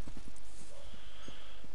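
Horse hooves clip-clop in the video game Elder Scrolls Online, a steady run of soft, evenly spaced hoof thuds close by with no talking over them.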